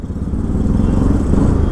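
A motorcycle engine drones steadily and loudly on a test ride, a constant low rumble with wind noise and no talk.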